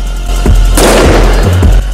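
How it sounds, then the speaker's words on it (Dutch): A 20 King firework set off upside down bursts with one heavy, booming bang that crackles and rumbles for about a second, loud and close, with no talking. "Ik ga nu trouwens een 20 king op zijn kop doen."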